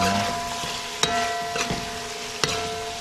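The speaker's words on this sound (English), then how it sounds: "Give that a stir" A spoon stirring black pepper and pepper flakes into a sizzling chicken and cabbage mixture, with a steady fry hiss and a few sharp knocks against the pan at close range.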